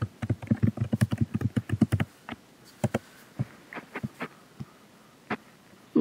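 Fingers type a password on a computer keyboard: a fast burst of crisp key clicks for about two seconds, then scattered single taps spaced out, close and clear with no talking.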